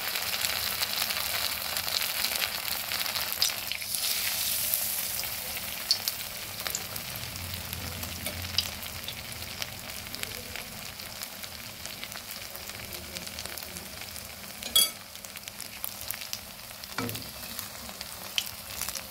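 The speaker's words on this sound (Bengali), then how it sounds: "এবার একটা করে ভেজে নেব।" Flattened rice chops dipped in cornflour batter fry in hot oil over lowered heat, a soft continuous sizzle with occasional louder pops and faint stirring, heard alone without talk.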